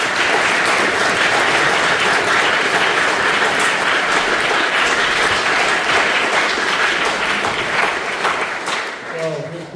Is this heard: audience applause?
yes